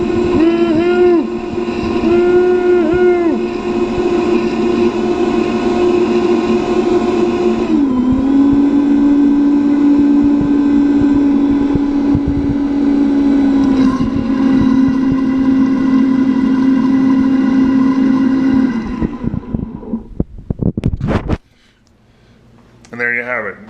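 A blender run on turbo while blending almond nut milk gives a loud, steady motor whine. The pitch dips once and then holds, before the motor cuts off and leaves a few clunks and rattles.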